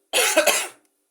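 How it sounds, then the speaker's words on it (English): A single burst of harsh coughing, close and loud, lasting under a second before silence. "excuse the coughing"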